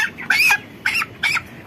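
A chicken clucks in three short bursts while held by hand, close and clear, with a quiet background between calls.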